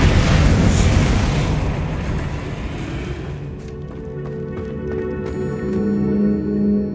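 Descendo slams down in Hogwarts Legacy, a loud, dense crashing impact that rumbles and rolls for several seconds before thinning into debris, then a low swell returns.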